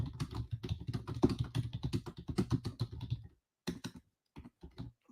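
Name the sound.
typing on a computer keyboard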